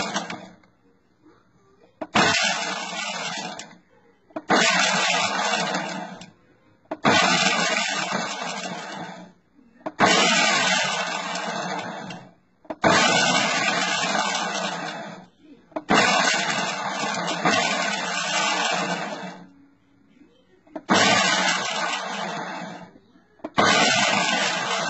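A kitchen blender pulsing bacon into bacon bits: eight loud whirring bursts of roughly two seconds each, separated by short silences, in a steady on-off rhythm.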